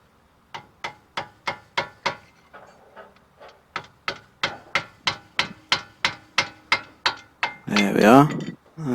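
A hammer strikes worn, poorly maintained front brake pads on a Honda CR-V in a rapid, steady run of about twenty sharp metallic blows, loud and close, ending in a brief squeaky scrape.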